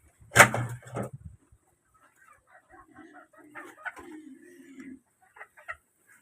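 A hen near her freshly laid eggs on a flooded home farm gives a sharp loud squawk, then softer clucks and murmurs trailing off, with quiet voices faintly present.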